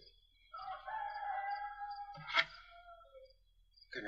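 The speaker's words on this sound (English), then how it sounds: "And a rooster crows at 4:30 in the morning." A rooster crows once, a long, loud, clear call with bright harmonics, followed by a short burst of clucking near the end.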